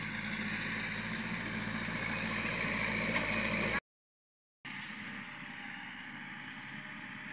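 A farm tractor with a rotavator tills a rice paddy, its engine a steady, loud, unbroken drone that cuts out briefly and then resumes just as constant.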